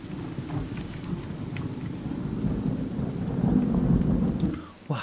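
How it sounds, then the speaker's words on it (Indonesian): Rolling thunder in a Minecraft game set in a forest, a continuous deep rumble that swells and grows louder toward the end, layered with steady rain-like hiss and occasional sharp crackles. "Oke, ada suara petir."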